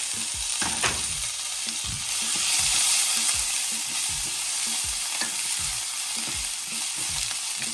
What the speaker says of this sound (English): So now that we've sauteed the cilantro